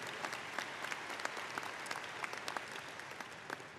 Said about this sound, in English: Yes, that deserves a round of applause, absolutely.